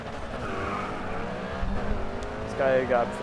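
A race car accelerates hard off the line in the GRID 2 racing video game. The engine whines steadily with rising tones and a brief squeal near the end, while a voice talks over the game audio.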